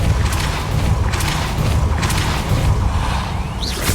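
Depulso spell cast in Hogwarts Legacy, a loud booming blast with whooshing surges repeating about once a second over a heavy rumbling game soundscape.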